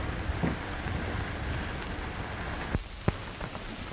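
Steady rain patters outside in a 1935 setting, a continuous soft hiss with a few brief louder drips and taps near the end, no voices.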